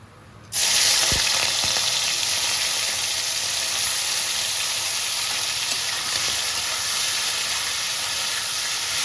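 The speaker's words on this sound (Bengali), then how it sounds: "এবার আমি চিংড়ি মাছটা ভেজে নেবো" Prawns dropped into hot oil burst into a loud, steady sizzle that starts abruptly and holds as an even, close frying hiss to the end, with no talking.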